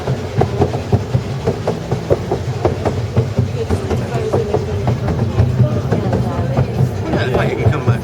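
Passenger train rolling along the rails on a day trip, with a loud, rhythmic clickety-clack of wheels over joints and a steady rumble underneath, while people talk close by.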